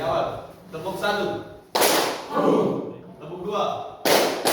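A classroom of students claps in a counted pattern, sharp loud group claps landing in short bursts between a teacher's spoken counts.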